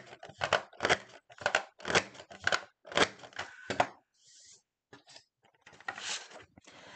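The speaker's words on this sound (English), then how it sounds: "I'm going to punch both sides. And then I'll trim two, and then I'll have one last one to punch and trim." A picket fence border maker cartridge punches and trims scrapbook paper strips, giving a series of crisp crunching clicks and short cutting snaps close by, in irregular bursts with brief pauses.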